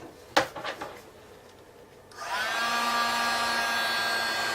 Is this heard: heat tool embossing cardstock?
yes